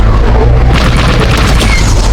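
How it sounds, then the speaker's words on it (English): A Star Wars vehicle in Fortnite fires its cannon with a heavy, booming blast, loud and close, filling the whole moment with a dense rumbling roar. "You can also shoot the cannon."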